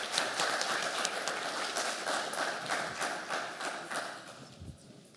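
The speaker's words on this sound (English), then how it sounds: "Another round of applause for Katie, please." An audience at a panel forum on impact investment applauds a speaker, a dense, fairly distant patter of many hands clapping that stays even and then thins out near the end.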